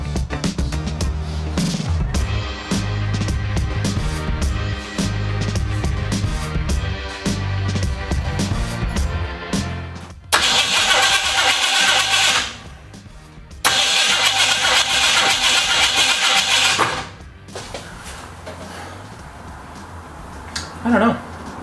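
A 1968 Ford Mustang engine with ignition problems cranks repeatedly with a rhythmic starter chug, then bursts into loud revving in two separate runs before dropping away.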